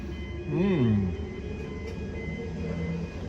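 Empty freight train carriages roll past on busy tracks, a continuous rumble with a squealing wheel sweep early on, while a person talks over the passing cars.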